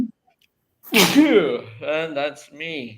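One sharp, loud sneeze bursts out after a brief silence, followed closely by a person speaking a few words.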